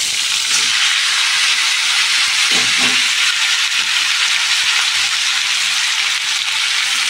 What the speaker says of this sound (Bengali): তেল গরম হয়ে গেছে, তো আমি এখানে সাজনাগুলি দিয়ে দেব।